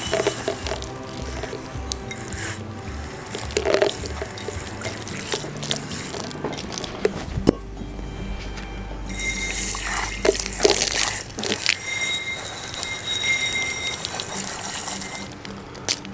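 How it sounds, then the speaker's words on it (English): Garden hose water spraying and splashing over a rusty metal item during vinegar rust removal, an uneven hissing gush that cuts out briefly and then returns louder and brighter, close by with dripping. "We're going to rinse it off with a little bit of garden hose water."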